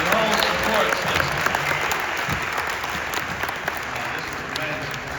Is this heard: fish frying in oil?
no